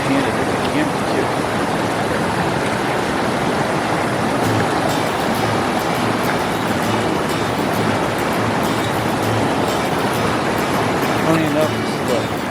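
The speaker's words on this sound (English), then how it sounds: "this is the first creek crossing we've done the very first day" Rushing creek water roars at a hiking creek crossing in Great Smoky Mountains National Park, a steady, loud, close wash of churning flow with no letup.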